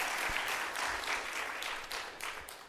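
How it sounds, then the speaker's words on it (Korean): A church congregation claps for its choir at a Bible study gathering, a fairly faint, brief burst of scattered applause with a few louder claps poking through. "박수 한번 쳐줄까요 오늘?"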